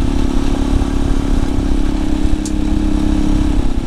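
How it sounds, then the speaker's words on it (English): A Royal Enfield Himalayan 450 motorcycle rides over a washboard dirt road, its engine droning loud and steady under a constant buzzing rattle and clatter from the bike. "Rattle testing the bike."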